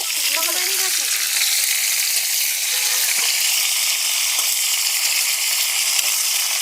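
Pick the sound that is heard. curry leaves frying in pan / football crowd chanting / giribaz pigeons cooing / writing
curry leaves frying in pan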